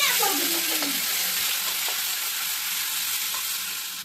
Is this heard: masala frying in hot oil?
yes